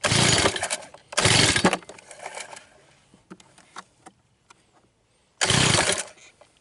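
A jet boat motor on a river is cranked in repeated start attempts: three loud, rough bursts of engine noise with quieter rattling and clunks between them, close by and with no talk.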